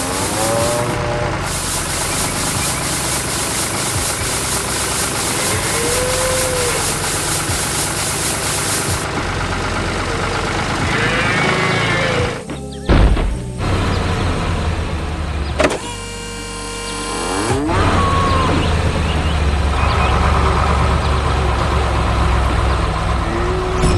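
The engine of a large corn-harvesting machine in an animated farm scene runs as a loud, continuous rumble, with whining motor sweeps rising and falling and a few brief dropouts along the way.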